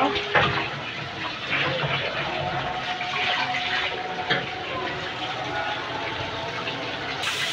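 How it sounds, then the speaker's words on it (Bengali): Thinly cut vegetable stalks are rinsed in water, a steady close splashing and sloshing that runs on without a break. "চিকন করা ডাটাগুলো ওই যে ভালো করে ধুয়ে নিল"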